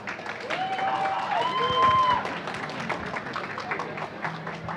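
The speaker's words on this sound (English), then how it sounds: "Please welcome them with a tremendous round of applause." Audience applause patters steadily at a Buddhist center's grand opening ceremony, with a whistle or two rising over it, then gradually thins out.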